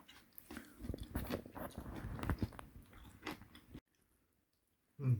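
Spicy chicken feet are bitten and chewed up close in a run of crunchy, wet bites. The chewing then stops for about a second before another loud crunch.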